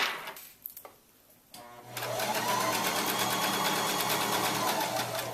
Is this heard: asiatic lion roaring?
no